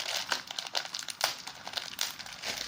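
A plastic bag of spaghetti pasta crinkles and rustles up close in a series of sharp, uneven crackles while it is opened and handled for making koshari.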